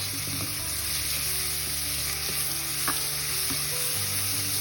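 Diced medium red onion, carrots and celery frying in a pot, a dense, steady sizzle with faint scraping stir clicks, close and continuous throughout.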